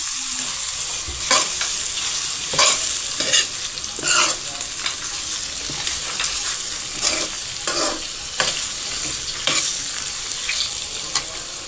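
Chopped bottle gourd and mango stirred in a pan with sugar still to come, a loud bright sizzle with repeated scraping strokes of a spoon at a steady rhythm, close up and without speech.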